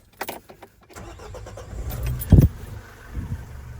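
A 2011 Opel Vivaro van's 2.0 diesel engine cranks and starts up, catching with a loud burst before settling into a low rumble, with some clinking at the start.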